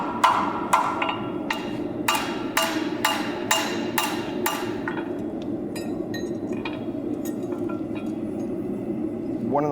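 Hammer blows on hot steel on an anvil while forging a square toe horseshoe: about eight bright ringing clangs in a steady rhythm, then lighter, quicker taps, close up over a low background rumble.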